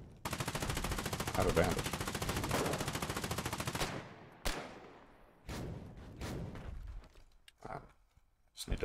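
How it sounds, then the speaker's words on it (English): Machine gun fire in the war game Foxhole on a frontline: a long rapid burst for about four seconds, then scattered shorter bursts and single shots, loud and near, with someone speaking briefly. "I'm setting up machine guns right now."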